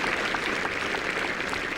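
Spectators at the 1995 Volvo Scandinavian Masters golf final round applaud a shot at the home hole: continuous, fairly loud outdoor clapping from a large gallery, sustained evenly throughout with no talk.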